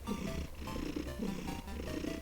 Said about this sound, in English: she doesn't purr, she sort of just does that wheeze when she's happy